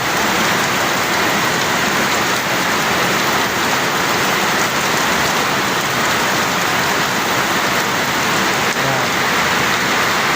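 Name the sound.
heavy rain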